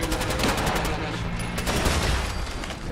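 Rapid gunfire from a survival shooter video game, a dense continuous fusillade of shots filling the whole stretch with steady loudness, with speech-like sound mixed in.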